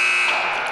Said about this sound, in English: Wasn't sure if you could hear me over the buzzer